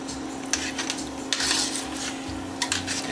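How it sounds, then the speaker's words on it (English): Spoon scraping and clinking in a pan while sour cream is stirred into a chicken stroganoff sauce, a few distinct metallic scrapes over a steady low hum, no talking. "Stir that all around."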